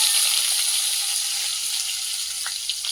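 Onion fries in hot oil in a wok with a loud, steady sizzle and light crackling, heard close and without voices.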